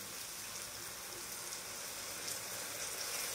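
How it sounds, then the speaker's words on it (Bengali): Beet chicken masala paste sizzles in a pan after a little water is added, a steady hissing crackle at low level with no talk. "এর মধ্যে আমি হালকা জল অ্যাড করব।"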